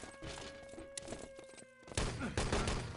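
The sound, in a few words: grenade exploding in a room, from video game Wolfenstein: Enemy Territory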